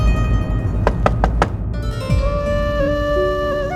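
Four quick, sharp knocks rap on a door in a home, set against a continuous musical background.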